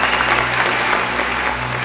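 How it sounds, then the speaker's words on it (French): Audience applause at a FEMIA festival stage broadcast, a dense, loud, continuous wash of clapping filling the whole moment without speech. "Déjà, nous, on t'applaudit déjà parce que tu seras sur la scène du FEMIA."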